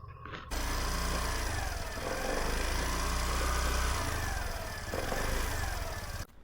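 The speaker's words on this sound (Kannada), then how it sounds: "ಗಾಡಿ ಸ್ಟಾರ್ಟ್ ಮಾಡಿ ಎಕ್ಸಾಸ್ಟ್ ಸೌಂಡ್ ಕೇಳಿಸ್ತೀನಿ ಬನ್ನಿ" Suzuki Avenis 125 scooter engine starts with a quick crank and settles into a steady close idle exhaust drone with slight rises, then cuts off.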